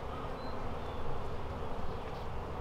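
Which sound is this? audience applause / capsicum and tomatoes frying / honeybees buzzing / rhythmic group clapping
honeybees buzzing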